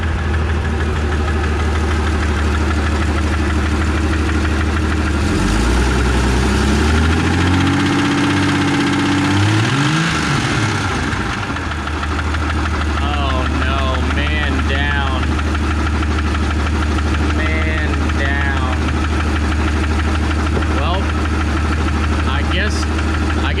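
Jeep XJ engine cranking and firing up in very cold weather, a starter whir followed by a rough, steady idle with a low rumbling drone, close and loud, with brief speech partway through.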